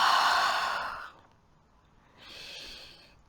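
During a yoga breathing exercise, a person exhales audibly in a long breathy sigh, followed after a pause by a second, softer breath.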